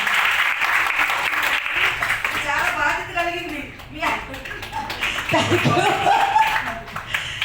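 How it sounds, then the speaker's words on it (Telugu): An audience claps together in sustained applause at a family event, with a voice speaking over the clapping partway through. "ఒకసారి మీరంతా సంతోషంగా క్లాప్స్ పట్టవలసిందిగా కోరుకుంటున్నాము."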